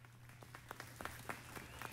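Crowd applause in the video game Snoot Game, a faint, thin patter of scattered claps with a few sharper individual hits over a low steady hum.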